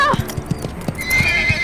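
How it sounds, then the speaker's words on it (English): A horse rears up, giving a loud whinny over a run of heavy hoof clops and stamping, with a sustained high neigh near the end, close and alone. "Suddenly, the boy's horse reared up and started thrashing around."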